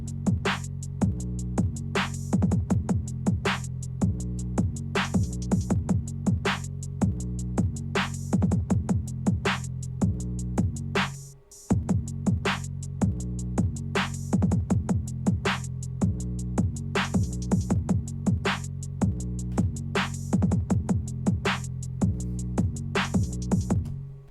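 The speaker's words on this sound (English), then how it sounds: "The drums alone just sound like this." Hip-hop drum beat for a track, with a booming 808 kick and open hi-hats in a steady looping pattern, loud and continuous, with a brief dropout near the middle before the groove returns.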